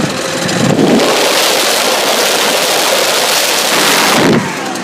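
A Husqvarna 580 BTS backpack leaf blower roars at full throttle, a loud, steady broadband rush of air and engine close by, holding constant for several seconds with a brief swell near the start and a drop at the end.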